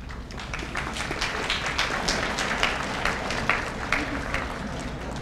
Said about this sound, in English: If we could hold our applause to the end